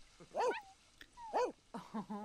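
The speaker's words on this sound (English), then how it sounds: "Cute little puppy in a bathtub." A Dalmatian puppy in The Sims 4, sitting in a bathtub, gives three bright, close yips and whimpers. The last comes as a quicker double yelp.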